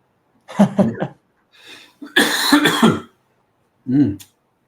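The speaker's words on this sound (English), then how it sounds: "just in case you were wondering why I'm coughing" Several harsh coughs and throat-clearing bursts in quick succession, close and loud, with short pauses between them.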